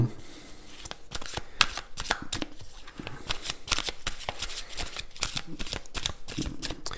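Cat-themed tarot cards riffle and slap in repeated quick bursts of shuffling, close and crisp, with short pauses between runs.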